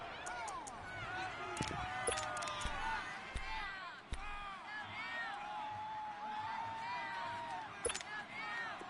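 Stadium crowd noise at a football game building ahead of a big third down, a steady roar of many voices with whoops and shouts rising throughout, mixed with a commentator's talk and occasional sharp thumps.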